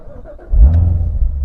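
A Chevrolet Corvette Z06 with a 650 bhp engine cranks and fires up halfway through, settling into a deep, loud, rumbling idle close by.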